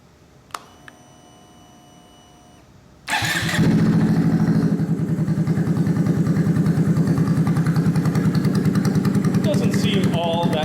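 A Honda Grom motorcycle with an aftermarket exhaust starts after a few quiet clicks and then idles with a steady, rapid, loud putter close by.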